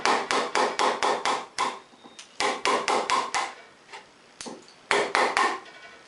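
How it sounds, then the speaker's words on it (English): Sharp wooden knocks of a mallet striking a chisel while carving a wooden stool seat, delivered in quick bursts of five or six blows separated by short pauses, close and loud. "I just need another blow with the hammer, a little bit more force."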